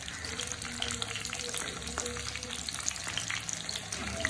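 Shim patoori, flat beans fried in an uncovered pan, gives a steady, close sizzle with light crackle throughout and no talk.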